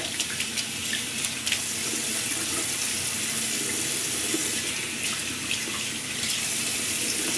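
Tap water runs steadily into a sink, rinsing soap out during a shave, a continuous close splashing stream with no talk.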